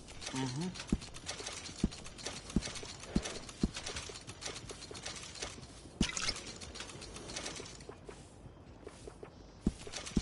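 Horse hooves clip-clop in a slow, even walking rhythm at moderate distance, with faint outdoor background noise and birds.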